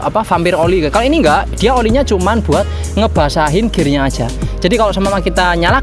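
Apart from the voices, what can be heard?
No everyday noises stand out.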